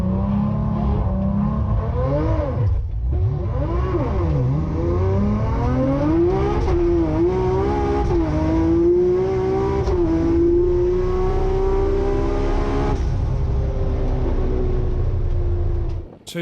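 Two Nissan Skyline GT-R R33s rev hard and race side by side down a runway, one a tuned GTR 900, their engines rising and falling through gear changes in a loud, sustained roar that ends abruptly.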